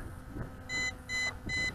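Three bursts of high electronic triple beeps from an MJX B12 EIS drone's first-phase low-voltage warning, evenly spaced, with a faint low hum underneath.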